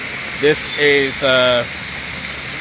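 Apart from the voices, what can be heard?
heavy downpour of rain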